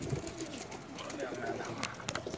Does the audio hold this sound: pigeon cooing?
yes